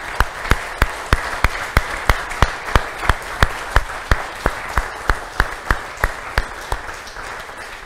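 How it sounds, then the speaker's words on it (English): A church congregation at a Music Sunday worship service claps together in a steady, even rhythm, sharp unison beats roughly three per second standing out above a background wash of applause. "Can we give a round of applause to everybody?"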